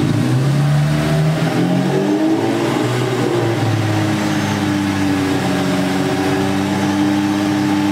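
An Infiniti G37 VQ37 engine with a failing oil gallery gasket is revved to about 2000 rpm and held at a steady elevated pitch, loud and close, its drone wavering slightly before settling.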